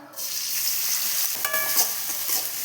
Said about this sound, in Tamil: வெங்காயம் தக்காளி நல்லா வதங்கட்டும்